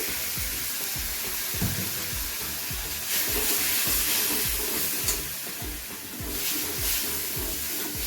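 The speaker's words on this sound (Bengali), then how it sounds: "এবারে দিয়ে দিচ্ছি সামান্য পরিমাণ জল" A splash of water hits frying onion, ginger and garlic masala in a pan, setting off a loud, steady hiss and crackling sizzle, close up with a few stirring scrapes and no talk.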